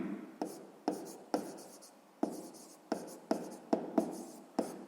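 Handwriting on paper while working a sixth-grade maths exercise: about a dozen sharp pen taps and strokes, each fading into short scratching, close and clear with no talk.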